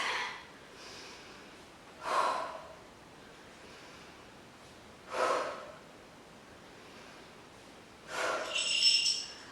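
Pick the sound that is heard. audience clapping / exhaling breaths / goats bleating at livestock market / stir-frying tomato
exhaling breaths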